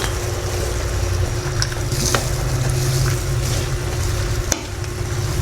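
Pork cubes being stirred in a cooking pot for ginisang tinadtad na upo produce a steady, loud hissing sizzle, broken by a few sharp scraping knocks of the utensil against the pot.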